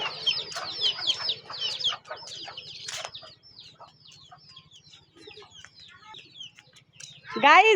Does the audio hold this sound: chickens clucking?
yes